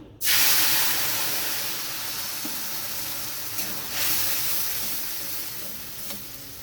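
Mustard and poppy seed paste goes into hot oil already tempered with nigella seeds, setting off a sudden loud sizzle that holds as a steady hiss, with a couple of brief stirring swells toward the end.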